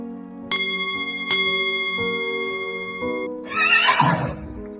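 Cartoon horse-drawn carriage pulls up, a bright horse neigh and whinny ringing out over sustained musical tones, with a few tinkling bell-like hits before it, loud and close.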